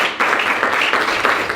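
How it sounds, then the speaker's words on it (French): An audience at a fundraising results announcement gives a short, steady burst of applause, continuous clapping filling the whole moment at close range. "on peut prendre le temps d'applaudir"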